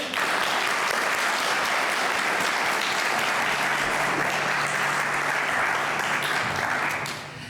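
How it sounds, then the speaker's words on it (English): Steady, loud audience applause at an annual Veterans for Peace poetry contest, following a musical performance; the dense clapping holds evenly before fading at the end. "Can we get another round of applause for her?"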